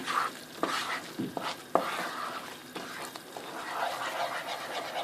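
A spoon or spatula scrapes and stirs semolina flour roasting in a pan for halva, with uneven scratchy strokes over a soft, steady sizzle, close and fairly loud.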